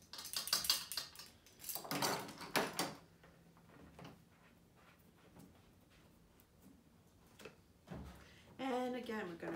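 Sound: mixing play-dough ingredients in a bowl

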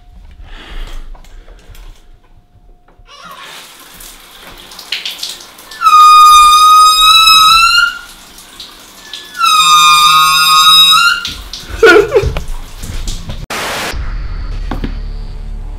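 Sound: loud ear-piercing noise from a haunted shower

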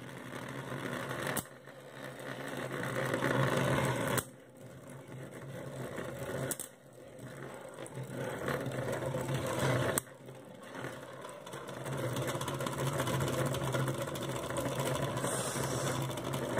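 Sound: Beyblade spinning tops battling in a stadium

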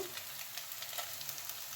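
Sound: onions frying in oil

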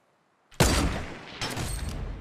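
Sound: thermal rifle gunfire in the video game Fortnite

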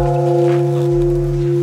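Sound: ringing a Buddhist temple bell

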